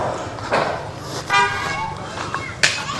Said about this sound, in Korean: 쟤 또 빵빵거리네